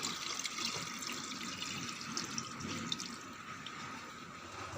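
Warm water poured from a cup into a pot of chicken being cooked for a red chicken curry, a steady close splashing and trickling stream lasting the whole stretch with no talk.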